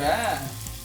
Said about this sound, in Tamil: இங்கே பார்த்தீங்கன்னா சிக்கனை பொறிக்கிறா